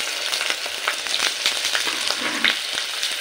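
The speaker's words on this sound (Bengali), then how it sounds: "আলুগুলো একটু ভেজে নেব" Large-cut potato chunks fry in hot oil, a steady crackling sizzle with occasional sharper pops and stirring scrapes, close and continuous with no talking.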